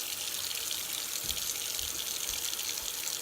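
Tap water runs steadily while shampoo is rinsed out of a lace frontal wig, a soft continuous splashing stream heard alone and fairly faint.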